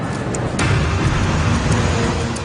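A truck drives through a busy street in central Nairobi, a loud continuous engine and road roar with traffic noise, close and steady throughout.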